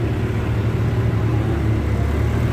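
Steady road traffic in a long jam in La Trinidad, Benguet: a continuous low engine rumble from idling and creeping cars, close and even, with no talk.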